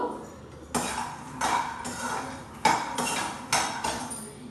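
Jaggery being grated by hand in a home kitchen, with several sharp scraping and clinking strokes at an uneven pace, close and fairly quiet, with no talking.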